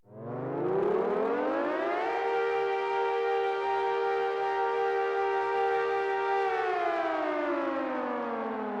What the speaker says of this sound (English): It's literally called World War II air raid siren.